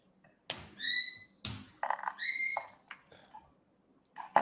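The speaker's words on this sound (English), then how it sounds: "who's got the bird?" Pet bird squawking and whistling from down a hallway, a handful of sharp harmonic calls and chirps separated by short gaps, fairly clear over a quiet room.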